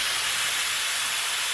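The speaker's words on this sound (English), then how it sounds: "Let it steam out." A pressure cooker full of beans lets off steam once its lid is unlocked, giving a loud, continuous, even hiss up close with no talking.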